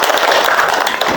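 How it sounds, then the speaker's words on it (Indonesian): A classroom of students claps for a classmate, a short, loud burst of dense, even hand clapping heard alone. "Tepuk tangan untuk Aziza"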